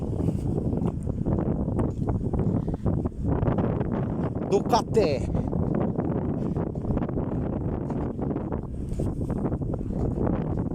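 Strong wind gusts outdoors after a storm near flooded water, roaring and buffeting the microphone steadily throughout while a person talks over it.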